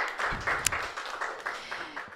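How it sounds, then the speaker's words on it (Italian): Light, scattered applause from a small audience at a Christmas expo in Florence, fairly quiet, with some background voices. "l'artista Ioanna Cardiacou dalla Grecia, un gentile applauso anche se avete già fatto, grazie."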